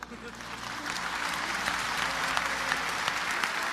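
Audience applause at a religious lecture on Islam and Christianity, a broad steady wash of clapping that builds slightly and holds for several seconds, filling the hall without a break.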